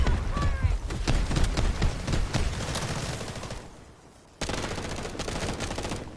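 Rapid automatic gunfire in the video game Delta Force, with dense overlapping bursts and shots that are loud and close. The firing drops out briefly near the end, then breaks back in at full force.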